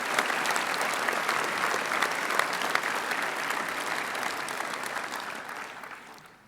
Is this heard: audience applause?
yes